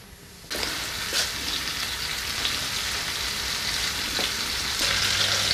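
Chicken escalope sizzling loudly in a pan as garlic and homemade cider vinegar go in, a sudden burst of hissing frying that stays strong and dense, with a few stirring scrapes and no voices.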